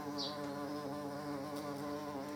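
A bee buzzes close by in a garage beside a Harley-Davidson Deuce motorcycle being worked on, a soft continuous hum that wavers slightly as it hovers, with no voices.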